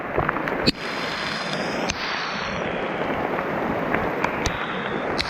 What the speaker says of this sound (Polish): jeszcze więcej deszczu